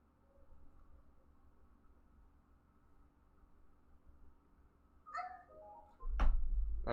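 A house cat gives a few short meows near the end, followed by a couple of thumps against a quiet background.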